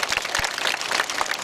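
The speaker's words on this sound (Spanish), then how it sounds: "recibe el fuerte aplauso de cada uno de ustedes" A crowd in Pucallpa applauds the first lady of the nation, producing a dense, continuous wash of many hands clapping at a moderate distance, with no speech over it.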